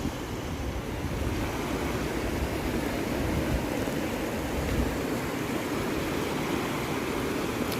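Steady, broadband rushing water from a natural waterfall over rocks in a river roars continuously and fairly close, a dense wash of noise with no voices or pauses.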